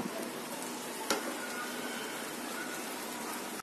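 Crispy flour snacks frying in oil, a steady, even sizzle heard up close with one sharp click early on and no voices.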